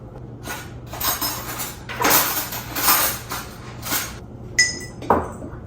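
A spoon clinking against jars in a home kitchen, several bursts of rattling and scraping followed by two crisp glassy taps near the end, close and fairly loud.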